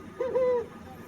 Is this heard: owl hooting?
yes